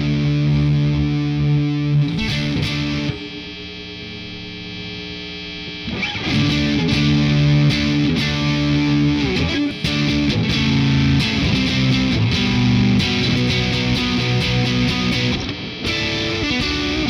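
An electric guitar plays through a thick, buzzing Drunk Beaver fuzz distortion pedal, a DS-1 style circuit, sustained chords ringing loudly with a short quieter gap partway through.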